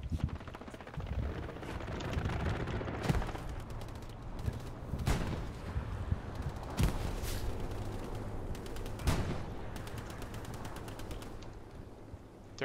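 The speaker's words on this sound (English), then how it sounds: "Frag out!" Explosions and gunfire in the WWII video game Hell Let Loose, with a frag grenade blast among several loud bursts over a continuous clatter of rifle and machine-gun fire.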